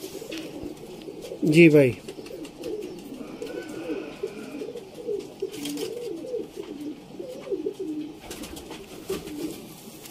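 Rampuri pigeons coo in a steady, continuous low warble at close range, with a brief louder call near the start and a short spoken remark over it.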